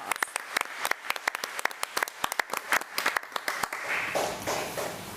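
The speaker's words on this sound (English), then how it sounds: "Let's give her a round of applause." A small group at a county school district meeting gives a round of applause, crisp scattered claps from a modest number of hands that thin out and fade into room noise.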